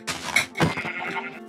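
A sheep bleats in Minecraft, two short wavering calls in quick succession, close and fairly loud with no talk over them.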